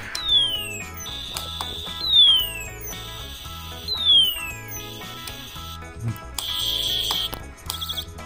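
Snap Circuits Jr. whistle chip circuit making a Space War sound: repeating electronic sweeps and warbling tones in a looping pattern, busy and buzzy, played alone.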